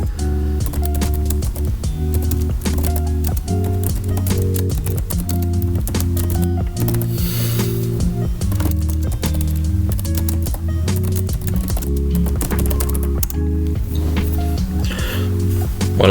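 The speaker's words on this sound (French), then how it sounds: "vous allez beaucoup entendre le clavier" Computer keyboard keys clatter continuously in dense, irregular bursts, up close and fairly loud, over a steady low musical bed.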